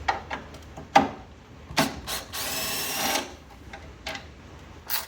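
A ratchet working loose tight screws on the headlight of a 1994 Chevy K1500 truck, giving a few short clicking bursts and one longer sustained rasp, close and fairly quiet.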